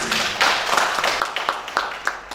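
A small audience applauds a trio of artists from Yogyakarta at a contemporary new media art discussion session, with a brief scatter of distinct claps that thin out over a couple of seconds.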